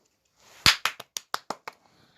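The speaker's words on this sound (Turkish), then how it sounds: "Alkışlıyoruz Defne'ye." Quick hand claps celebrating Defne, seven sharp, closely spaced slaps in a brisk rhythm, loudest at the start and tapering off, heard on their own with no talk.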